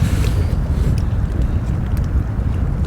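Steady wind roars and buffets the microphone outdoors on the bank at a fishing match, a loud continuous low rumble throughout with no voices.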